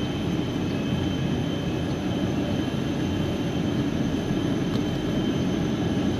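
An airplane idles on the airport apron at El Nido, Palawan, its engines giving a steady, loud, unbroken roar and high whine with no talk over it.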